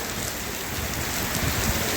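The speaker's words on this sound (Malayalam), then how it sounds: "നല്ലൊരു മഴയും കനത്ത മഴ" Steady, heavy rain pours down continuously, a dense hiss of drops with a low rumbling undertone and no breaks.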